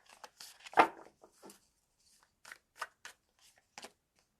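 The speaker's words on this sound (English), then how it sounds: "Shuffle it again." Crisp papery riffling and snapping of an oracle card deck in quick bursts, with pauses between shuffles, close and fairly quiet.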